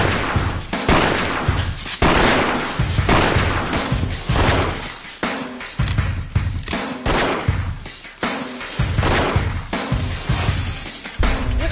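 Gunfire rings out in a shootout between border defence police and armed suspects, loud close shots in repeated rapid bursts and volleys, separated by brief pauses, with no speech over it.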